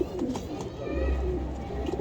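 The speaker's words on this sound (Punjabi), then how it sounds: "ਵਾਹ ਜੀ ਬੜਾ ਵੱਡਾ ਕਬੂਤਰ ਆ ਯਾਰ ਇਹ" A large pigeon coos close by in low, soft repeated calls, with a voice talking faintly underneath.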